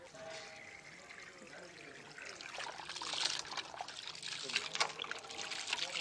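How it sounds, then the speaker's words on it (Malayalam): Clams being washed by hand in water, with running and trickling water and splashing throughout, growing a little louder toward the end, under a background of talk. "കക്ക ഒന്ന് കഴുകിയെടുക്കാൻ പോവുക"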